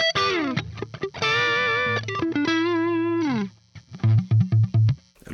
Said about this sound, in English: that's a really good split humbucker sound, right? For the neck.